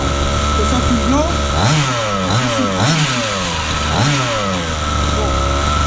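A small petrol engine on a 1/5 scale RC buggy buzzes loudly and close, rising and falling in pitch as the throttle is blipped several times, with a voice speaking over it.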